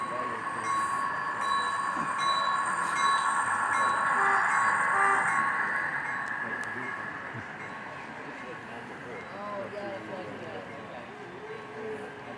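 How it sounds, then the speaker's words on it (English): A model train pulling a long iron ore drag rolls past at a train show, a steady mechanical rumble and squeal that swells, then eases off under loud crowd chatter and people talking nearby. "And here comes Roger's iron ore drag."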